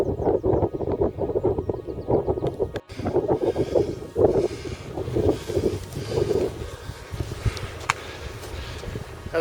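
Wind buffets the microphone on a long, flat, exposed stretch of the Ridgeway trail toward Avebury in March, a steady rough rumble with gusty swells and faint rustling throughout, no talking.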